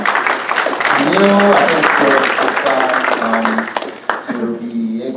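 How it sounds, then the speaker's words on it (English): A symposium audience gives Steve a big round of applause, dense clapping over a few seconds while someone speaks over it. "gave a big round of applause for Steve"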